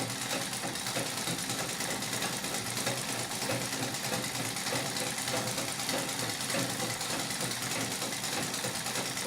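A Singer 31-15 industrial treadle sewing machine runs continuously during free motion quilting, a steady, fast mechanical whir and clatter that stays close and even throughout, with no voices.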